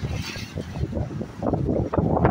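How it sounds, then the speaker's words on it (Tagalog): Strong wind gusting at a beach near Talomo-Matina Aplaya bridge, loud buffeting roar hitting the microphone in uneven bursts throughout. "At napakalakas ng hangin mga ka-cottage"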